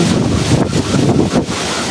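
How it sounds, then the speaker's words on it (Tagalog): Strong typhoon wind from Typhoon Uwan sweeping past a school on an island in Barangay Bani, Lavezares, Northern Samar, roaring loudly and buffeting the microphone in heavy gusts with brief dips. "Lakas talaga ng hangin."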